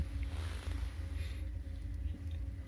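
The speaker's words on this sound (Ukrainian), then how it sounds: "цей двигун робить на повну потужність" A steady, low generator engine drone runs without pause, a continuous rumbling hum at full power with no voices.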